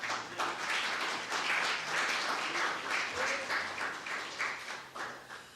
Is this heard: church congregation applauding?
yes